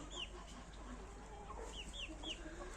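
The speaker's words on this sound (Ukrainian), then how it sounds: "Старша наша курочка лігбарша. Несе яєчко." Faint, distant hen clucks from a Leghorn laying an egg on a farm with geese, ducks and turkeys, a few short rising calls over a steady low background hum.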